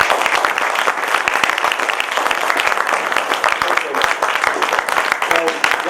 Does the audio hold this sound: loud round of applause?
yes